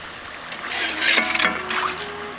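Murukku fries in hot oil, a bubbling hiss that swells loudly for about a second, then eases back down, with no talking.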